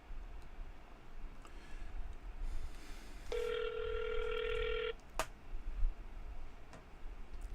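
Telephone call being dialed: a steady tone held for about a second and a half over low background noise, followed by a sharp click, with soft ticking around it.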